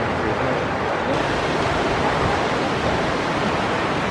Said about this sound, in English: you probably can't hear me over this super loud water